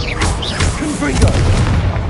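A Confringo spell explodes in the video game Hogwarts Legacy, a loud booming blast with rumbling low end, mixed with game voices and effects.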